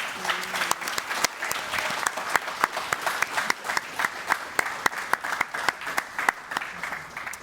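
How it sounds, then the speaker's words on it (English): An audience at a Hall of Fame panel event applauds the panelists, a steady wash of many hands with distinct individual claps popping out rhythmically, fairly close, with faint voices mixed in. "let's give our awesome panel a round of applause"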